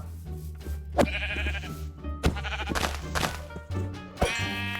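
Sheep bleat in the Minecraft video game, several loud wavering calls in quick succession, with a few soft thuds between them.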